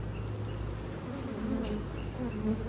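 Honey bees buzzing densely around a tall beehive stacked with deeps and medium honey supers, a constant close droning swarm that swells slightly without pause and no voices.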